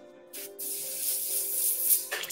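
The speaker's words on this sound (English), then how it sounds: "spraying this stuff has never been my favorite" An airbrush sprays paint onto model aircraft, a Tempest and a P-61, giving a steady close hiss that starts and stops abruptly, with a slightly spitty, uneven flow.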